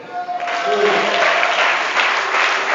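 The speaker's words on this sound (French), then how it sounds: "c'est pourquoi tu peux acclamer" A church congregation clapping and cheering during a sermon, a short burst of applause swelling quickly and holding, moderately loud and close.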